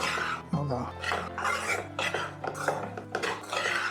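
A spoon stirs flattened rice (avalakki) in a pan on a gas stove, making repeated scraping and clinking strokes that run steadily throughout, with a faint voice briefly in the background.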